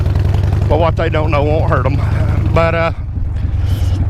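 A blue Harley-Davidson Super Glide motorcycle cruising along a road, its low, steady engine rumble running throughout under someone speaking over the ride.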